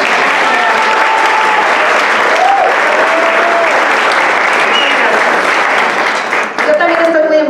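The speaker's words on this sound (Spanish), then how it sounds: "démosle un aplauso para recibir" Steady applause from an audience at a municipal DIF event recognising volunteers, dense and continuous throughout, with faint voices and whistles mixed in before it begins to thin near the end.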